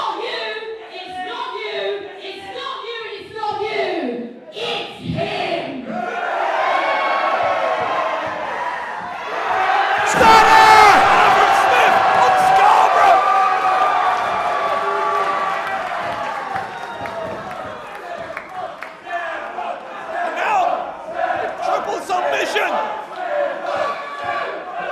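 A packed pro wrestling crowd at an independent show chants in rhythmic bursts, then swells into loud cheering and a roar, with voices calling out through the sustained noise.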